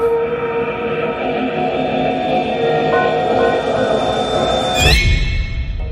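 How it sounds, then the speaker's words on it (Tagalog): Train at a railway station at midnight in an animated horror story: a steady, loud rumble of rolling rail cars fills the scene, with a sharp squeal or whistle and a sudden shift in tone near the end. "Hating gabi na nang makarating si Sienna sa istasyon ng tren mula sa pagbisita niya sa bahay ng kanyang ina"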